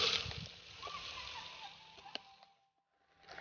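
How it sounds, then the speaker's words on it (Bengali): Dry lentils poured from a packet into a jar make a close, steady rushing patter for about two seconds. The patter thins to scattered grains and then falls silent. "প্যাকেট থেকে ডালগুলো ঢেলে বয়ামটা ভরে রেখে দিচ্ছি"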